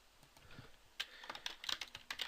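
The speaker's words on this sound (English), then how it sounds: "So I might want to type" Quick bursts of typing on a computer keyboard while entering text into SAP ERP software, irregular key clicks close and fairly quiet, alone with no talking.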